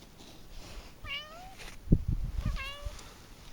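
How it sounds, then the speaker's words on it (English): A shop cat, a wild female, meows twice, each a clear rising-falling call, with scuffing and knocking noises from a workshop with a lawn and weed trimmer between the calls. "It's my cat."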